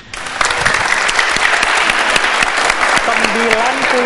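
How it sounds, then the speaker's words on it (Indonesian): A studio audience claps loudly and evenly for several seconds, a dense steady burst of applause with a speaking voice entering faintly near the end. "Beri tepuk tangan sekali lagi"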